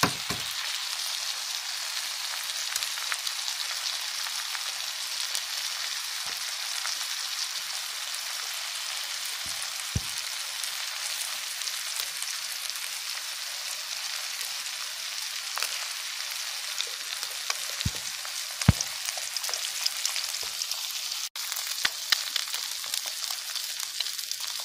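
Two eggs crack into a hot pan for homemade egg parotta and fry with a continuous, crackling sizzle like light rain, broken by occasional clicks and scrapes, with no talk.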